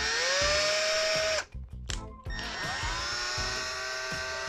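Milwaukee M12 drill driver with a standard HSS bit drilling into metal plasterboard profile: a loud whining motor that drops out as the bit bites, with brief grinding, then spins up again steadily.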